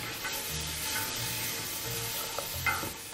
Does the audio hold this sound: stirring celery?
yes